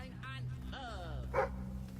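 A dog in the video game Fable III gives a couple of short yips and barks, close and fairly faint, over a steady game soundtrack while someone talks.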